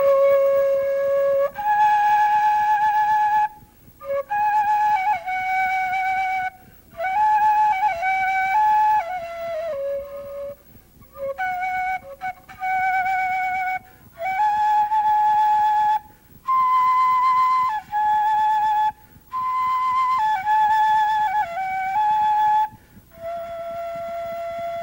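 A whistle plays a melody in clear sustained tones, phrase after phrase with short pauses between, close and loud with no talking over it.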